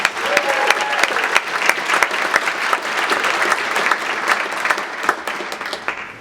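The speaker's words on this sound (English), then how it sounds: "Let's give all of our award recipients one more round of applause." An audience at an awards event claps steadily for several seconds, dense and warm applause with a few louder individual claps standing out.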